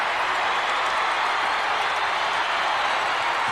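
A capacity arena crowd roars and cheers after a pro wrestling submission win, a dense, continuous wall of noise that stays loud and steady the whole time, with no distinct voices on top.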